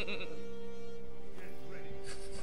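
A person imitates a goat with a wavering bleat, mixed over a game of Chivalry with a steady tone and scattered clatter underneath; speech surrounds it.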